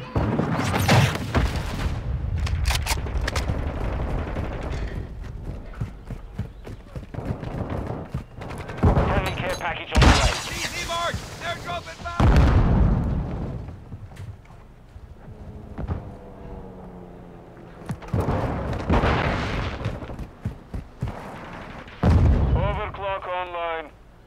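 Call of Duty Modern Warfare 2 multiplayer beta gunfire: repeated loud bursts of automatic shots and booming explosions in clusters, with players talking over the battle noise.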